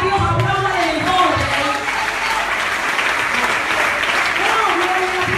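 Sustained applause from a large crowd at a church sermon, steady and loud throughout, with some voices mixed in.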